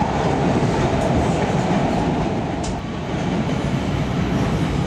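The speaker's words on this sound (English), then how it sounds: "This is a Blue Line train to O'Hare." A Chicago CTA Blue Line elevated train running: a steady, loud rumble of wheels on rails with a faint clickety-clack and no voices.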